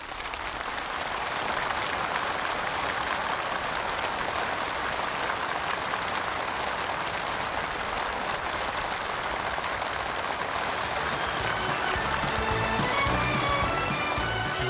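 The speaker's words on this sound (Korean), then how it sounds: "전체 참가자들의 열렬한 박수갈채가 환희의 분출이 되어 준공식작을 울리는 속에" Enthusiastic applause from a large crowd at the inauguration ceremony for regional-industry factories in Onchon County, a dense, steady roar of clapping that fills the whole stretch.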